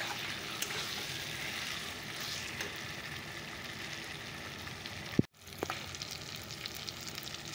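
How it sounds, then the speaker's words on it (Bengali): Chicken frying with masala over a raised gas flame, a steady crackling sizzle close by, with a sharp clank and a momentary drop in the sound partway through before the frying resumes. "চলো এবার চিকেনটা দিয়ে ভালো করে কষিয়ে নেব মশলাটাকে।"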